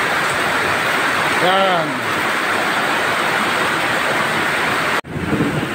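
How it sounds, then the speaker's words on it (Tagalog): Heavy rain drips and pours off a roof in a steady, dense hiss that fills the whole stretch, with a short voice and a sudden cut just before the end. "Medyo malakas ang ulan. Yan, yung tulo sa bubong."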